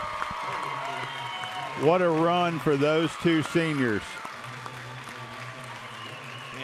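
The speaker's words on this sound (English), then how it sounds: "You're fixing to hear a loud cheer from the Loretto fans as the starters will come out." Loretto fans cheer at a high school basketball sub-state game as the starters come out, a loud crowd roar rising over an excited commentator who talks throughout.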